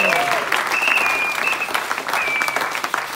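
A church congregation at Sunday worship breaks into loud, sustained applause, with a few high whistles or cries rising above the steady clapping throughout.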